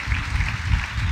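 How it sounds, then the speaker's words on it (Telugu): A church congregation claps in praise, a muffled, rhythmic patter of hands over a heavy low rumble, short and fairly loud. "చప్పట్లు కొడుతూ ప్రభుకు స్తోత్రం చెప్పండి"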